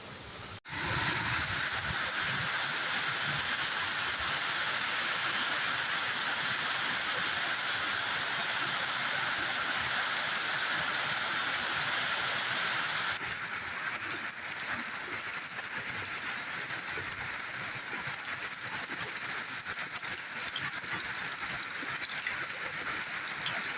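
The flooded Rio Grande river in Portland, Jamaica rushes as a loud, constant broadband roar during heavy bad weather, steady throughout with no voices.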